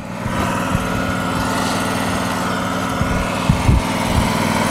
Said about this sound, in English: Engine goes to 3200 RPM. Should come back down to idle.